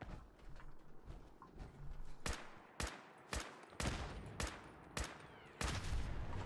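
Gunfire in the video game Fallout 4, with a volley of sharp shots coming in irregular bursts, loud and close, with no talking over it.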